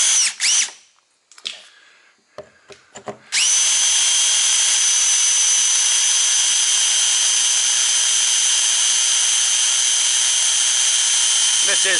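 A power drill bores a 15/16-inch hole through a fiberglass truck body panel, running as a loud, steady whine that holds for about nine seconds after a few short trigger bursts and some handling noise.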